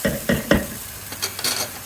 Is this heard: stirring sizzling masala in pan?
yes